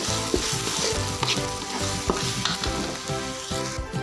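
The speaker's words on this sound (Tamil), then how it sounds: "நம்மளுக்கு மசாலா நல்லா வதங்கி வந்துருச்சு." Masala for a red meat gravy sautéing in oil, a dense continuous sizzle with rhythmic spoon scrapes and stirring knocks against the pan throughout, close and fairly loud with no voices.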